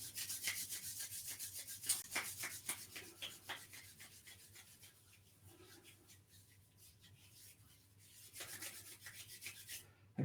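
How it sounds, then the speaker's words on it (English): Palms rubbing briskly together in repeated strokes during a shiatsu self-care session, a soft broadband swishing friction that swells and fades, close and fairly quiet with no talk over it. "We're going to rub our hands together."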